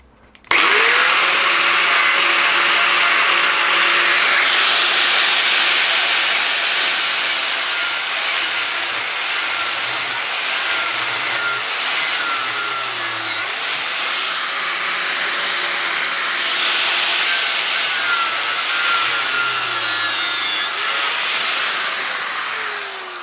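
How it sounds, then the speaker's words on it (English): An angle grinder slitting off a broken stud on a two-stroke engine barrel at a welding table, a loud steady high-pitched whine of disc on metal running continuously for over twenty seconds, with slight dips in pitch as the load changes. "Angle grinder's probably going to be the best thing, just to slit that off."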